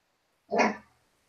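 A puppy lets out a single short, sharp bark, close and clear against an otherwise silent background.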